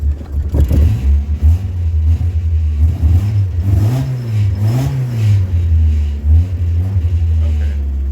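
A 1994 Mazda Miata with a long-running crank-no-start fault idles loudly up close, its engine note swelling and dropping through several uneven revs, with no voices.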